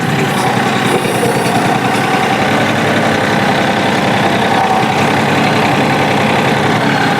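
Steady loud drone of a tractor engine running as the machine with a hydrostatic transmission drives around, constant and close with no talk.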